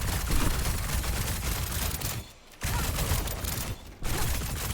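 Freja's crossbow bolts fire in a rapid, dense stream during an Overwatch 2 ranked Stadium match, a loud continuous rattle of shots broken by two brief pauses.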